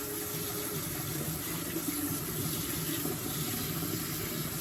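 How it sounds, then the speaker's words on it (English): Warm tap water runs steadily into a sink, rinsing farm-fresh vegetables such as corn with a soft, even splashing hiss and no talking. "now I'm going to take some warm water here and rinse it all off"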